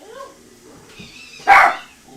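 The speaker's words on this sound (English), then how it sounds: "You need to stop barking, dude." A pet dog named Milo lets out one sharp, close bark after some faint whimpers and yips, indoors during a quiet conversation.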